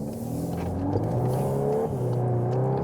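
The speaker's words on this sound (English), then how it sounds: "Race mode, definitely always a nice thing to have. For example, when you accelerate out here to the street" Volkswagen Golf 8 R Variant (2022) in race mode accelerates onto a street, its engine note rising steadily in a continuous strong drone, heard from inside the car without talk.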